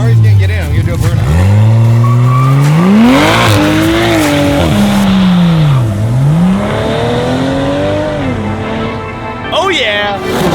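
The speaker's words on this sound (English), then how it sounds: "I'm gonna do a burnout." A widebody 2020 Toyota Supra does a burnout, the engine revving up and down in loud swooping sweeps while the tires squeal, with excited voices shouting nearby.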